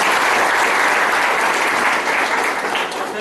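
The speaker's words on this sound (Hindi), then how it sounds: "तो एक जबरदस्त ताली सर" Hearty audience applause at a BNI seminar in Kondagaon, Chhattisgarh, a dense, loud, continuous wash of clapping with no speech over it.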